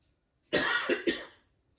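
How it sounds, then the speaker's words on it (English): A short burst of two or three close, harsh coughs in quick succession, then quiet. "excuse me, I'm going to cough"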